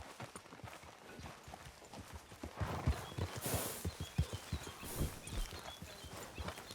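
Horse hooves clip-clop at a steady trotting rhythm in Red Dead Redemption 2, close and clear, growing a little louder partway through, with ambient outdoor noise and no speech.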